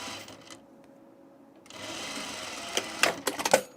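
A sewing machine sews a straight-stitch seam on knit fabric, starting with a hum after a quiet pause and ending in several short, close bursts of stitching.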